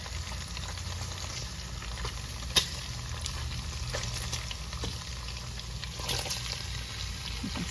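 Bacon sizzles and crackles steadily in a pan of rendered fat, a continuous close frying hiss with a few sharper pops and light stirring, no talking.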